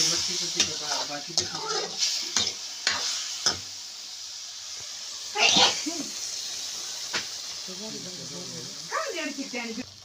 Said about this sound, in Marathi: लसूण परतल्यानंतर हे बघा व्यवस्थित परतून घेतलेले आहे